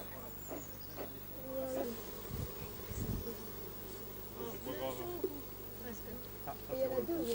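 Honeybees hum and buzz over brood comb as a young bee emerges from its cell, a steady close drone with a few louder passes, while someone talks in French over it.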